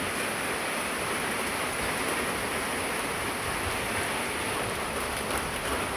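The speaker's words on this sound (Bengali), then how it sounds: "ভাবছিলাম যে বৃষ্টি হবে না কিন্তু বৃষ্টি হয়েই গেল" Steady rain hisses continuously across the whole stretch, a dense, even patter with no voices or pauses.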